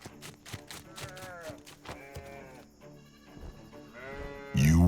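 Flock of sheep and lambs bleating nearby, several wavering calls overlapping one after another, with a louder burst of sound at the end.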